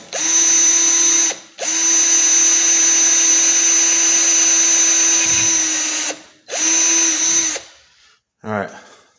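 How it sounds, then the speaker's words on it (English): A power drill bores a new hole for a normal wood screw while work continues on a Winchester Model 120 12-gauge shotgun, whining loudly in long continuous runs with short pauses, and a voice speaks briefly at the end. "going to drill"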